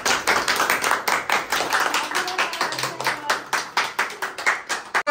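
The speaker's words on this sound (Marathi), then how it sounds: "टाळ्या वाजवा यार टाळ्या वाजवा" A small group claps hands at a home party, a steady run of quick, close, evenly paced claps that keeps going for the whole stretch and breaks off briefly just at the end.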